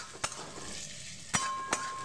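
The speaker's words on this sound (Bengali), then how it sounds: "এবার পেঁয়াজটাকে আমি ভেজে নেব" Finely chopped small onions frying in a little oil for a mutton and potato curry, a soft steady sizzle broken by three sharp spatula clacks against the pan, close and fairly quiet.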